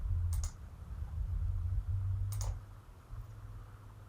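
Computer mouse clicks on a deploy button, two brief sharp clicks about two seconds apart, close and crisp over a steady low hum, with no voices.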